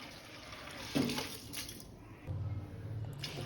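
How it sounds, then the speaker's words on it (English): Rice and water are poured into a cooking pot for Tamil Nadu style rasam rice, giving a faint liquid splash and trickle with a brief stronger pour. "Now add rice with water."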